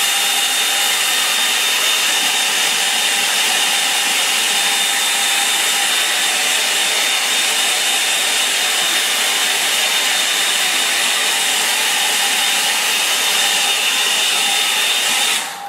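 A hair dryer blowing steadily on a watercolour painting of a woody stream, a loud continuous whooshing hiss with a faint whine, running unbroken and close for the whole stretch.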